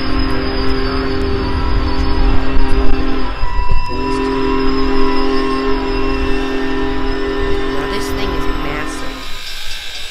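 Union Pacific Big Boy 4014 steam locomotive hauling a long train: a loud, continuous rumble and clatter of rolling cars with a sustained two-tone horn blast that breaks briefly and resumes, heard up close throughout.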